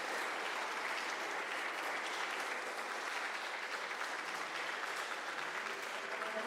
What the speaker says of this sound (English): please give these candidates a huge round of applause